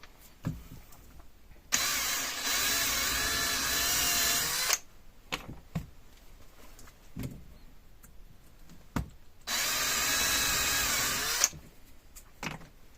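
A power drill whirs in two long bursts of about three and two seconds, drilling into a car's interior tray table, with clicks, knocks and handling noises between them.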